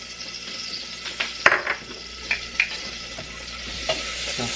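Chopped garlic stirred in a drizzle of olive oil in a pan, steady close sizzle with several sharp scrapes and clinks of a utensil against the pan, no talk.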